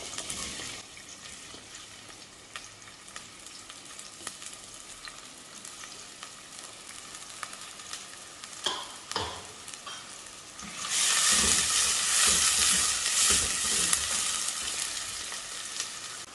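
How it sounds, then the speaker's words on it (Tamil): Onions sauté in a pan for mutton salna, starting as a quiet sizzle with scattered stirring clatters and then swelling into a loud, dense frying hiss as the pan heats. No voices are heard. "முதல்ல வெங்காயம் சேர்த்து வதக்கிக்கலாம்."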